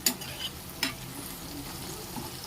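A potato mixture for Kathiyawadi bhungla bateta is stirred and mixed in a pan, giving soft scraping strokes with a couple of sharper clinks over a faint steady sizzle.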